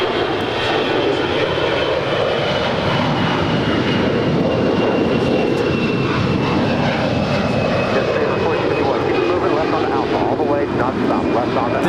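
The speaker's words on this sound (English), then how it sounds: "This is Alaska 278 departing to Los Cabos on an A320" An Alaska Airlines Airbus A320 jet airliner departs Los Angeles airport, a loud continuous engine roar with a faint high whine sustained throughout, heard from nearby and mixed with radio chatter.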